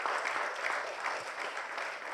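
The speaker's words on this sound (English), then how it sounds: "A big cheer for our athletes assembled here with us this morning" Audience at an IRONMAN 70.3 World Championship press conference applauds for the assembled pro athletes, a steady wash of clapping, moderately distant, with no talk over it.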